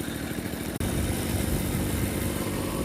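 A TVS XL moped engine runs in a steady, close putter with a brief drop near the start.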